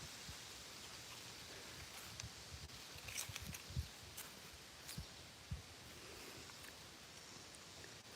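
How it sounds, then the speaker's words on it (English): Wind gusting through leaves outdoors in the woods on a hot day, a faint, steady rustle with a few soft bumps and brief louder swells. "The wind just whipped up."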